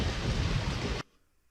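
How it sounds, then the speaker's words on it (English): Steady, dense rain effect in a detective adventure game, heavy and close for about a second before cutting off abruptly into near silence. "I appreciate the effects here, making their clothes kind of wet in the rain."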